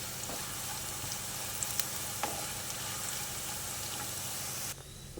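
Bitter gourd pieces fry in hot oil and are stirred as they turn golden, giving a steady, dense sizzle close by with a few faint utensil clicks. The sizzle drops away near the end.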